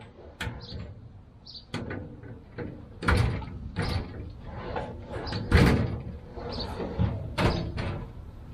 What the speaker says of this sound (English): Actually got to remove this bottom drawer.